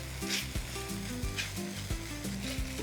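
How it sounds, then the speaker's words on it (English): Meat roasting and sizzling in a hot pan for a traditional German Haschee meat sauce, a steady crackling fry with soft stirring scrapes throughout. "Adding the meat again. And I give that another roast."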